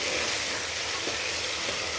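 Tomatoes with a little salt sauté in a pan for Tirunelveli-style mutton thakkadi, giving a dense, continuous close sizzle and bubbling hiss with no talking.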